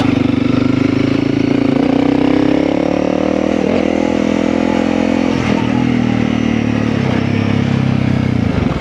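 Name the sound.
Honda CRF300L motorcycle engine revving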